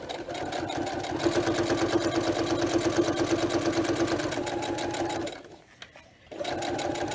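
A clunky sewing machine in need of a service stitches vinyl for a zipper pouch, running loud and steady with a rapid mechanical chatter, then briefly stopping near the end before starting up again.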